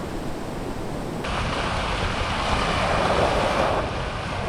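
Warm ocean waves wash against an island shore in a steady broadband surf roar that swells louder partway through, mixed with wind noise on the microphone.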